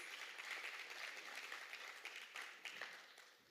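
An audience applauds Elmore Stout High School dancers at a CXC regional award ceremony, a faint, distant, continuous patter of clapping that tapers off toward the end.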